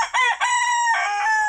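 A Brahma rooster crows in a garden, one loud, clear, drawn-out call that rises and then holds, heard close and alone.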